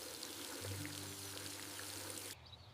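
Water is poured steadily from a can onto a young tree in a garden, a close, continuous gurgling stream with a rising tone that lasts about two seconds before stopping abruptly.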